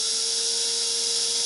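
A power drill spins steadily to twist Clapton wire for vape coils, giving a close, loud, continuous whine with a constant pitch for the whole moment and no talk.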